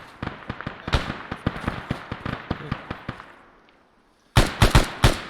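Rapid gunfire crackles during a squad attack in the military game Arma 3, a burst of sharp shots fading into a lull, then several loud, close shots ring out again.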